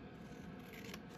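Scissors snip through paper scraps at a craft table, a soft, close rubbing cut with a slightly sharper bite at the end, quiet and with no voices.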